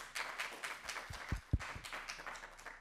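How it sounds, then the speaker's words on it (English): A keynote conference audience gives a short burst of applause, scattered claps with a few louder sharp hits, fairly faint and distant in a large hall, with no talking. "Can we give them a round of applause?"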